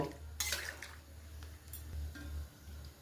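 A metal pot lid clinks onto a pot of simmering rajma curry, with a bright clatter early on and softer metallic taps afterward over a low bubbling hum.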